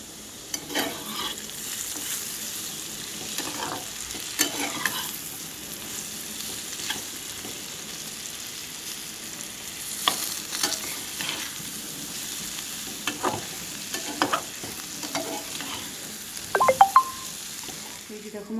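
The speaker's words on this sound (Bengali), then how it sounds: "এই যে দেখো আমার পেঁপে ভাজাটা কমপ্লিট হয়ে গেছে।" Papaya slices fry in a pan with a steady, close sizzle for nearly twenty seconds, broken by occasional clinks and scrapes of stirring; a voice speaks faintly now and then.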